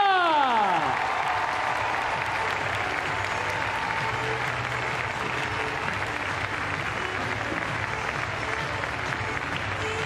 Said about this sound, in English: give it up for our superstar dog, Smurf, and his handler, Sarah!